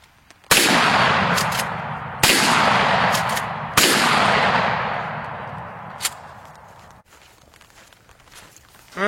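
Three loud, close gunshots ring out in a quick sequence, each with a long fading tail, from a shooter firing from an up-under-the-arm position. A fainter pop follows a couple of seconds later.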